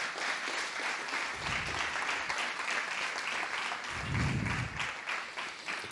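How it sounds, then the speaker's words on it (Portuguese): Church congregation applauding during a sermon, a steady dense wash of many hands clapping throughout, close and sustained, with low rumbling swells underneath. "Dê um aplauso ao Senhor, aleluia."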